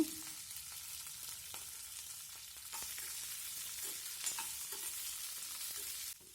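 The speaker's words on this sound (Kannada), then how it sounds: "ಈಗ ಇದಕ್ಕೆ ಕಟ್ ಮಾಡಿಟ್ಟ ಈರುಳ್ಳಿಯನ್ನು ಹಾಕ್ತಾ ಇದ್ದೇನೆ" Chopped onions fry in a pan of hot oil with curry leaves for chicken chintamani, giving a continuous soft sizzle broken by light scraping taps as they are stirred.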